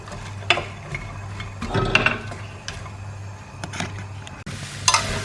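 Chopped onions dry-cooking in a Berghoff pan without oil, stirred with scraping and clacking strokes over a faint sizzle and a low steady hum, close and fairly quiet.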